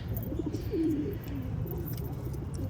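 A single soft pigeon coo, fairly close, rising briefly over a low, steady background hum.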